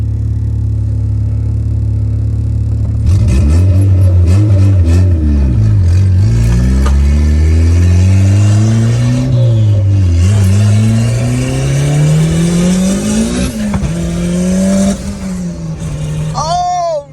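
A Honda EG hatchback fitted with a new exhaust revs and pulls hard through rising and falling gears, loud and close, with a voice briefly heard over the engine.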